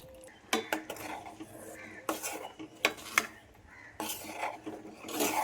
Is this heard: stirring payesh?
yes